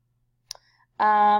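A single faint mouse click during a grade import, followed by the start of speech.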